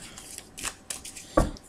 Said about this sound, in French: je vais les remélanger avant de procéder au tirage